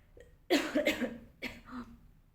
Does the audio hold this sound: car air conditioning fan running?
no